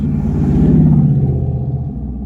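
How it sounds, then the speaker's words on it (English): Loud car engine revving with a deep, rumbling low-end roar, close and sustained, easing slightly toward the end with no talking over it. "Bro, your car should not be that loud."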